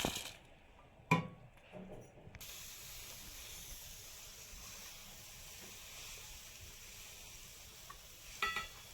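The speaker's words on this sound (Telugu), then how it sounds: "ఇప్పుడు పల్లీల్ని వేసి వేయించుకోవాలి." Peanuts roast in a pan, producing a faint, even hiss and light sizzle that runs steadily, with a couple of sharper knocks near the start.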